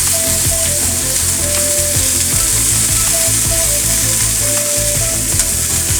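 Ingredients for South Indian temple-style tamarind rice sauté in a hot pan with a steady, loud sizzle, broken by occasional stirring clinks and scrapes, no voices present.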